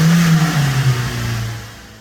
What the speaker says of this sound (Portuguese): O Corolla funcionou de primeira.